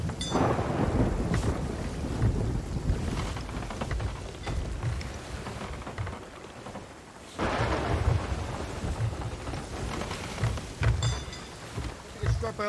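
Heavy rain with rolling thunder in Sea of Thieves, a dense, steady roar out at sea. A louder surge comes about midway, and voices are faintly mixed in.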